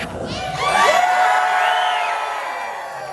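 A live stage-show audience at Universal Orlando screams and cheers in a loud, swelling burst of shrieks and whoops that rises quickly and then fades gradually.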